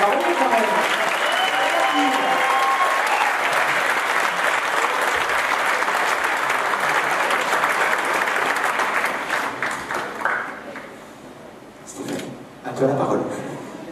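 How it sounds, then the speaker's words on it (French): Loud, dense applause from an evening show audience rolls on steadily for about nine seconds, then fades into scattered claps with brief talking and a few last bursts. "Alors, mais plus fort, les applaudissements"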